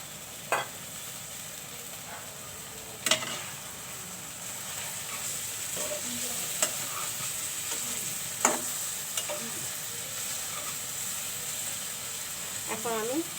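Tomatoes being sautéed for a tomato and baim (eel) fish dish, a soft continuous frying hiss broken by a few sharp spoon knocks and scrapes against the pan at intervals; fairly quiet, with no speech.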